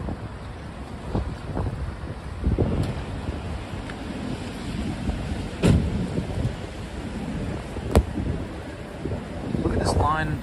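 Wind and heavy rain on a New York City street at night, a steady roar of rain and wind buffeting with occasional sharp gusts and thumps, while people talk underneath.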